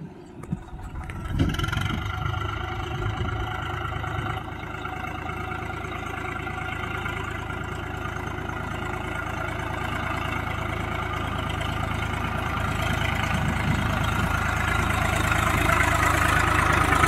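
A tractor hauling harvested rice comes along a waterlogged, muddy field track. Its steady diesel engine drones continuously close by, with a low rumble that slowly grows louder as it approaches. No one speaks.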